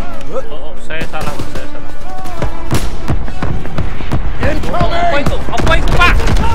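Bursts of gunfire in the Call of Duty WWII Death Factory mission crack loudly and irregularly over a dense battle soundtrack, with voices talking through the shooting.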